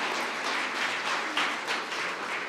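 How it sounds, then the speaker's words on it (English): A church congregation claps together in a steady, moderately loud patter of applause that continues without voices. "do y'all clap in church here?"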